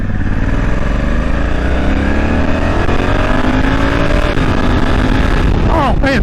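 A Honda Africa Twin DCT motorcycle accelerates with a steady, loud engine drone and rising tones, heard close and continuous from the rider's position with wind noise.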